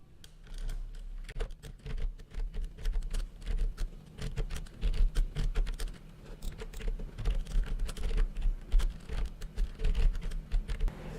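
Rapid, uneven clatter of keys being typed on a computer keyboard while writing code, close and steady for about eleven seconds with no voices.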